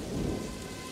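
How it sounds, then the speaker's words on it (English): A brief burst of a thunderstorm: dense, hissing rain with a low rumble of thunder underneath, moderately loud. "The crash of thunder, the howling of the wind, the gentle tapping of raindrops dancing on my paw"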